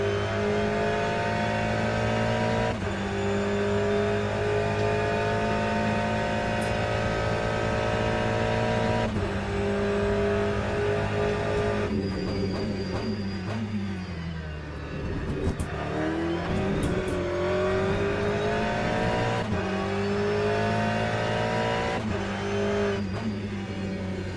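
Race car engines in the Le Mans Ultimate sim racing game drone steadily at high revs throughout, with brief dips and shifts in pitch as the car lifts, brakes and accelerates again, loud and continuous.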